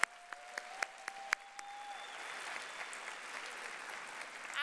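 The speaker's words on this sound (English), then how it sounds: "Let's give this group another round of applause for their efforts this week." At the Kentucky FFA State Convention, the crowd starts with a few sharp, separate claps, then swells into a broad, steady round of applause from a large hall, moderately distant.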